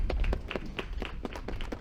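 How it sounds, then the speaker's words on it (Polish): A small group claps for itself at a shelter dog-walking gathering, a steady run of roughly even claps, close and moderately loud, without speech. "Uwaga, klaszczemy brawa dla siebie za dzisiejszy dzień."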